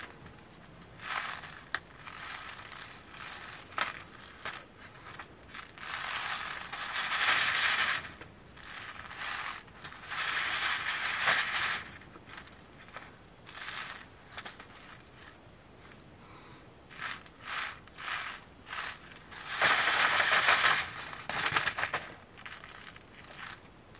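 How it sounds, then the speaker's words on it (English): Dried flower seed heads rubbed between the hands to separate the chaff, making dry crunching and crinkling bursts that come and go in long waves, close and fairly loud, with no talk. "you're basically getting the chaff to separate from the seeds"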